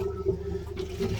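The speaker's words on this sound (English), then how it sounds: "Go ahead and turn on the pump, Noah." Pump pushing antifreeze through the plumbing into a boat toilet on a trailered 28-foot Bayliner Ciera, giving a short, steady gurgling water rush with a low continuous hum underneath.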